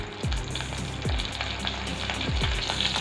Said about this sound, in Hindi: तो लीजिए जीरा हमारा अच्छी तरह से तड़क चुका है।